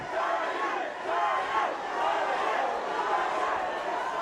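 A local boxing arena crowd roars and chatters steadily throughout a close, competitive fight night, a dense wall of shouting voices with small swells, moderately loud and continuous.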